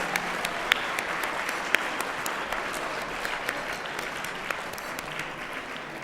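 An awards-ceremony audience at a regional Emmy event claps for an honoree, a steady, even wash of applause throughout, with a few sharper individual claps standing out and no talking.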